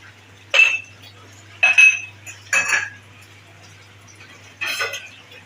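A pot lid is lifted off a dish of cooked chicken, giving four separate close metallic clinks and scrapes with quiet gaps between them and a low hum underneath.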